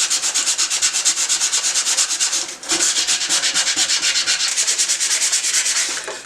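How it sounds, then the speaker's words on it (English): A rusty kitchen knife scrubbed with wet or dry sandpaper, close and loud rhythmic rasping strokes in a quick steady back-and-forth pattern, about four per second, with one short pause midway. "This is called wet or dry sandpaper for a reason."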